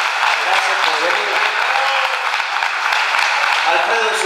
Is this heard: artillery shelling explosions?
no